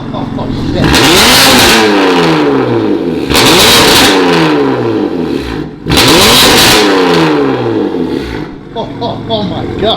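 A BMW M3 with a Valvetronic exhaust revs hard in three loud, rising bursts, each falling back toward idle, close by, with people talking and exclaiming over it.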